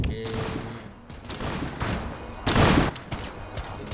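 Rapid gunfire bursts in the tactical shooter Rainbow Six Siege, loud overlapping shots with a heavier blast near the middle, over faint game ambience.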